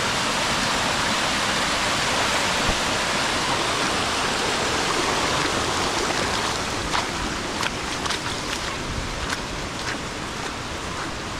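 Mandale waterfall in the Konkan region pours in a steady, dense rush of falling water during heavy rain, loud and unbroken from start to finish.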